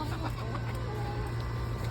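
Chickens cluck softly in a steady murmur over a low background hum, with occasional brief higher calls.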